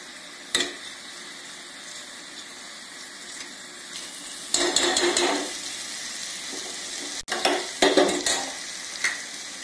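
Sweet potato halwa with cashews and cardamom is stirred in a pan, with a soft steady sizzle broken by a few sharp scraping and clinking strokes of the spoon against the metal.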